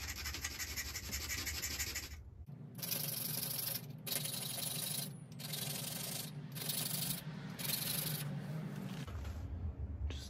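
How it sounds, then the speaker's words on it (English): Close, steady scraping and rubbing as an old flint flake abrades the edge of a small flint biface point, repeated strokes in a rhythmic series with brief gaps, no talking. "Use an old flake to abrade in here."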